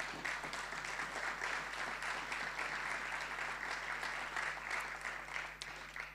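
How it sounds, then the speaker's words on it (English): An audience at an opening reception in Barbados gives a hearty round of applause, dense and sustained clapping that continues throughout and tapers slightly at the end. "And I think that they deserve the most hearty round of applause."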